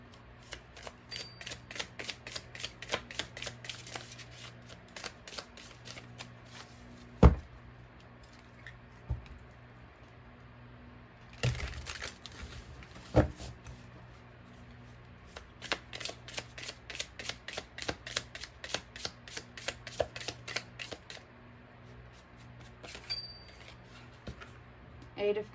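Tarot cards being shuffled in bursts of rapid riffling flutters, with quiet pauses and a few sharp taps between rounds, close and clear.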